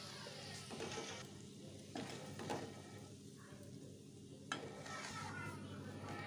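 Roasted prawns from a ghee roast are moved from a pan onto a plate, giving soft scraping and stirring scrapes with a faint sizzle underneath, several short clinks of utensil against the pan, and no talking.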